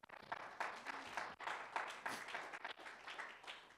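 A church congregation claps during a sermon, a fairly faint, uneven patter of hands that rises and dips over a few seconds.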